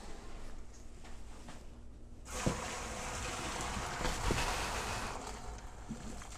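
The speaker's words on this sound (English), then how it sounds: "Let's drain this spaghetti." Cooked spaghetti poured into a colander, its hot cooking water rushing out in a sudden steady hiss and splash that starts partway through and continues loud and even to the end.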